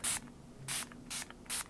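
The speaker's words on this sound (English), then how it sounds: "I'm going to be using some Glimmer Mist sprays over top of this page" Four short hissing bursts of Glimmer Mist spray misting onto paper over acrylic paint, close and crisp, separated by brief pauses.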